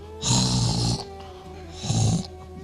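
A voice imitates snoring: two drawn-out, rasping breaths separated by a short pause, close and fairly loud.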